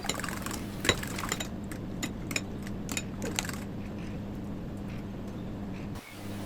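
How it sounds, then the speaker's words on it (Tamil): Eggs being beaten in a bowl for noodles: quick, close clinks of a utensil against the bowl in a brisk, uneven run that fades out near the end over a faint background hum, with no talking. "இப்போ வந்து நாங்கள் முட்டையை அடித்து கொள்ளுவோம் சேர்த்து நல்லா அடித்து கொள்ளுவோம்"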